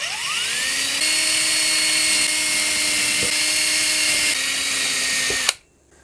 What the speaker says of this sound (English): I need to drill the holes for the screws in here.